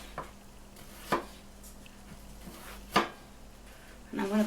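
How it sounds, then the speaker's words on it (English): Knife chopping an aubergine in a home kitchen: a few sharp, separate cuts spaced about two seconds apart, close and moderately loud, followed by a brief rattle at the end over a quiet background hum. "I'm cutting my aubergine."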